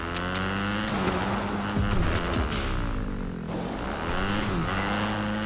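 A fast car driving in the video game Fortnite, with a steady engine drone and shifting revving tones running continuously and fairly loud throughout, with no voices over it.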